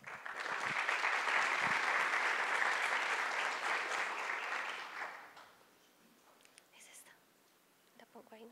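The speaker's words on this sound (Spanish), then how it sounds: "quiero pedirles un fuerte aplauso para Jorge Gutiérrez." At a climate change presentation event, the audience applauds loudly and fully for about five seconds, then the clapping fades to a quiet room with a few faint stray sounds.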